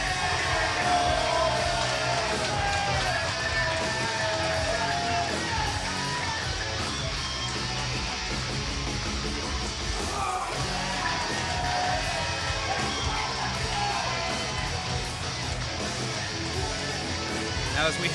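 A wrestling crowd at a Paulsboro show yells, whoops and cheers continuously, a loud dense roar that runs the whole time under a ringside commentator's voice.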